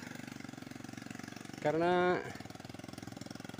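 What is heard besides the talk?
Sukhoi mountain motorbike engine running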